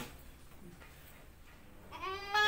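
A two-month-old male goat kid bleats in its pen, a faint, muffled stretch of barn noise giving way to a louder, clear bleat near the end, with no talking.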